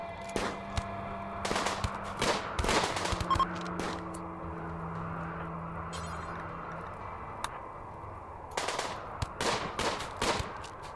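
Gunfire from a RimWorld colony battle: bursts of rapid clattering shots and isolated sharp reports scattered through the stretch, mixed with game effect tones, fairly loud and with no talk over them.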